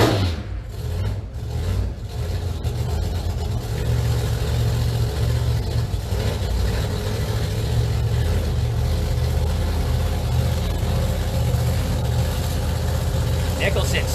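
A nitrous-equipped Pro Modified drag race car at Mission Raceway, its engine a loud, steady, low rumble that holds throughout at close range.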